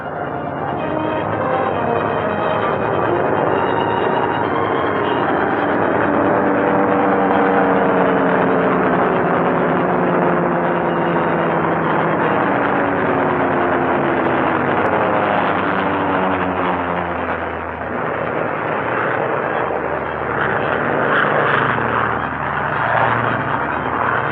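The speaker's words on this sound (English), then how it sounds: "A first ship lands. The remainder circle the field, another coming to Earth each time around." WWII bombers returning from missions in the Aleutians and circling the airfield to land, a continuous loud propeller-engine drone that swells and shifts throughout.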